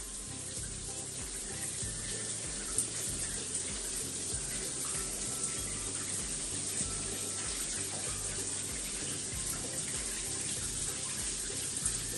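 Shower water runs in a steady, unbroken hiss at moderate level for the whole stretch, with no talking over it.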